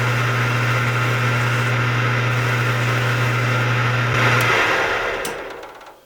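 Walnut pen blank spinning on a lathe while sanded with 220 grit sandpaper: a steady, loud motor whine with a broad hissing rasp, winding down at the end.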